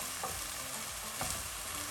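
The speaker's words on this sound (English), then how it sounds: "So I'm gonna add a tiny bit of stock and give them a quick stir." Pulled pork sizzling in a pot just after a splash of stock goes in, stirred briefly; a dense, steady hiss fills the whole moment, close up, with a couple of soft utensil knocks and no talking.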